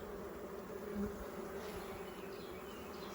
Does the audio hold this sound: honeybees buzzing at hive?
yes